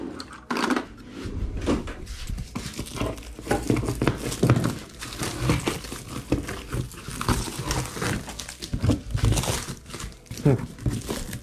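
Crinkling, rustling thick plastic film handled up close while unpacking a box holding a motorcycle crash cage for a Honda CBR650, with irregular crackles and tearing sounds, a voice speaking briefly at times.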